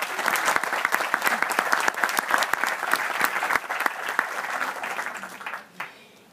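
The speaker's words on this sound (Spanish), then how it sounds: "Un aplauso para ellos." Audience at a university lecture by Camila Vallejo breaks into steady, dense applause, loud and close, holding for several seconds before fading out quickly at the end.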